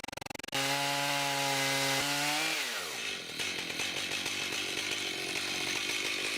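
A chainsaw powerhead on an Alaskan chainsaw mill idles with a steady drone, then revs up to full throttle and bites into a log, grinding loudly and continuously as it slabs the wood.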